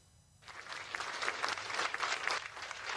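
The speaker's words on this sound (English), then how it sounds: "Japanese space agency staff applauded as the capsule detached from the probe Hayabusa-2 and began its final approach to Earth" Staff at the Japanese space agency applaud as the Hayabusa-2 capsule detaches from the probe, a sustained burst of many hands clapping that starts abruptly after a short quiet moment and continues steadily, fairly close and even.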